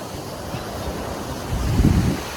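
Steady wash of sea waves at a beach in Bauang, La Union, with wind rumbling across the microphone, swelling louder near the end.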